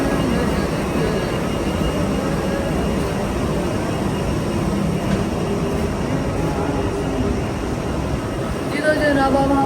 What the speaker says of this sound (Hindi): मैं ये जहाज़ पीछे से आपको नज़र आ रहा है